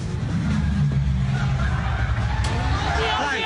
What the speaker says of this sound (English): Watch as this car does a burnout just outside a CBD hotel